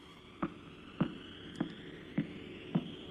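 Pulsar radio signal picked up by a radio telescope and converted to sound: a regular beat of five soft thumping pulses evenly spaced about half a second apart over a low continuous hum.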